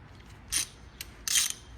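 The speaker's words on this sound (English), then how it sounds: "And then you just take your ratchet," A ratchet tightens a mechanical tee onto pipe during fabrication, giving a few short, sharp metallic clicking bursts close by with brief pauses between them.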